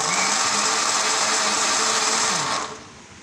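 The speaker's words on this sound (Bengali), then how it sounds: "এখন ভালোভাবে ব্লেন্ডার করে নেব।" A kitchen blender whirs steadily as it purées ripe mango with a glass of water, the motor droning loud and even before cutting out and winding down near the end.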